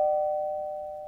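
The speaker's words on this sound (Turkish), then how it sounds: "Ah, zil çaldı." A single electronic doorbell chime rings out as one steady, clear tone, starting loud and slowly fading over about a second with nothing else around it.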